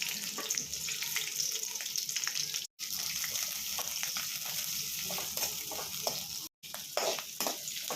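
Garlic and onion fry in hot oil for a radish chutney, giving a steady loud sizzle with small crackles and spatters that runs throughout, broken by two brief silences.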